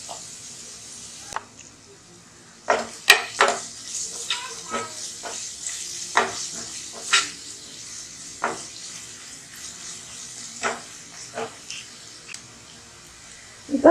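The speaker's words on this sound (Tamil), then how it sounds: "இது வதங்கட்டும்." Minced chicken sautéing in a pan ahead of purple cabbage, a soft continuous sizzle under scattered sharp scrapes and taps of a spoon stirring, with a voice now and then.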